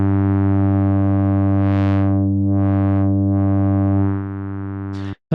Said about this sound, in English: it allows you to basically overdrive the filter